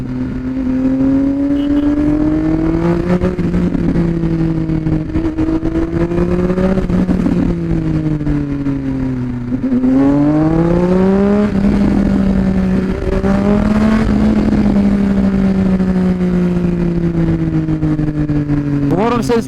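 A loud, close Triumph Speed Triple RS engine with stock exhaust revs up and down repeatedly, its pitch rising and falling in deep throaty sweeps.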